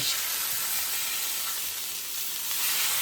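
Flank steak sears in a hot cast iron pan with a steady, loud, unbroken sizzle that holds close and even throughout, with no voices over it.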